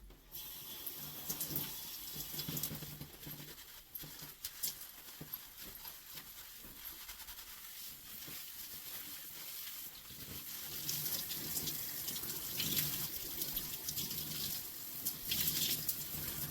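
Steady running water splashes continuously for the whole stretch, swelling louder near the end, like a shower stream pouring over long knotless braids while rinsing out conditioner.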